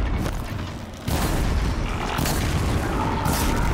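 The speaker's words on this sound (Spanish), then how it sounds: "¿Cómo tira fuegos artificiales?" Fireworks explode in the video game Horizon Zero Dawn: three heavy booms land about a second apart, each rumbling loudly over a low, continuous in-game background, with no talking.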